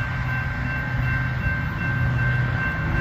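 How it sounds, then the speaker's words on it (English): A Union Pacific manifest freight train with a Norfolk Southern unit rolls past a level crossing on Massingale Road, a loud, steady, close rumble of rail cars with a constant tone, and no one speaking. "Oh, there's another train coming,"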